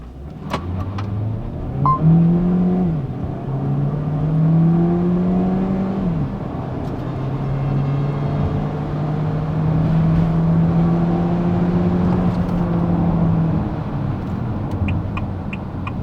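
A Haval H6 with a 1.5 litre turbo engine accelerates hard under kickdown in sport mode, the engine note rising through several gear changes, loud and close from inside the cabin.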